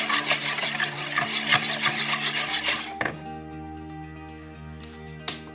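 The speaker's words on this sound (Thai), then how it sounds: "ค่ะก็หลังจากนั้นก็คนให้เข้ากันค่ะแล้วก็พักแป้งไว้สัก15-20นาทีค่ะ" Flour batter mixed with water is stirred in a bowl, a soft rhythmic scraping and swishing for a few seconds before it eases off into quieter clinks and a low hum.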